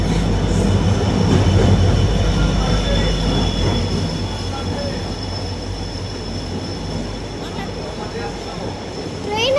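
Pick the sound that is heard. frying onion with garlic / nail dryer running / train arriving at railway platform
train arriving at railway platform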